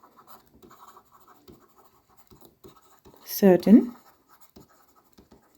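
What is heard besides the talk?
writing down notes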